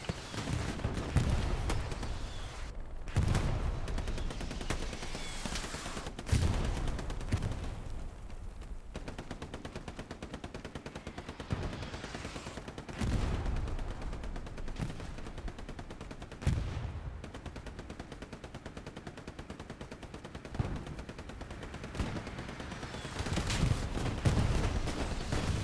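Dense automatic and rifle gunfire in a video game battle between infantry and armored vehicles, rapid bursts and heavy booms rolling on continuously for the whole stretch, loud and close.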